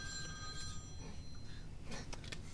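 A phone rings faintly in short repeated trills during a baseball press conference, sounding slightly distant over room background noise.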